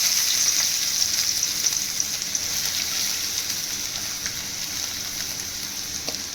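Chopped onions hiss and crackle in hot refined oil, a loud, even, close-up sizzle that holds steady throughout with a few faint ticks of the pan.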